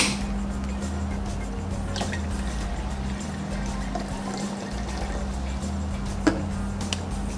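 Water trickles steadily into a glass for a dancing raisins experiment, with a soft continuous pour and occasional faint drips, no voices.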